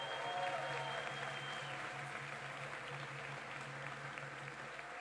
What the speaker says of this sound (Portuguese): Os aplausos, por favor.